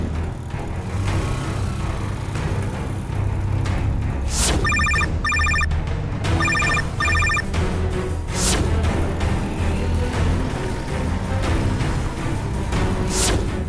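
A telephone rings with an incoming call in a Tamil TV serial scene, two bursts of bright electronic trills repeating over a steady low background hum with no talk.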